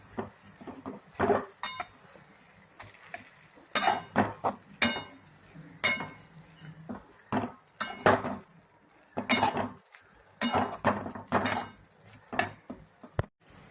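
A spoon stirs chopped spring onion greens and cooked rice in a pan, with a loose rhythm of metallic clinks and scrapes against the pan and short quiet gaps between strokes.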